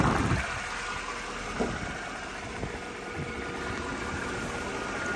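Steady idle of a Mercedes-Benz CLS 550 AMG engine warming up, a constant low rumble with a few soft knocks and clicks over the top, heard up close without speech.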